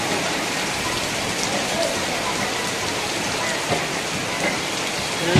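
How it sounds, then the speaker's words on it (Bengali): Steady rain pours down outdoors, making a dense, even wash of hiss and patter close by that holds constant the whole time, with no other sound standing out. "এই বৃষ্টি হচ্ছে বন্ধুরা"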